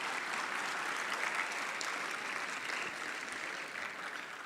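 An auditorium audience gives sustained applause at an inauguration, dense and even for several seconds before tapering slightly at the end.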